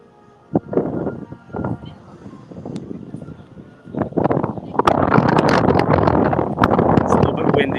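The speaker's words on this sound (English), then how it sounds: "It's a little bit windy now." Wind gusting outdoors at a SeaWorld Orlando theater area, buffeting the microphone in rough bursts that build into a loud, sustained rush over the second half, with voices speaking beneath it.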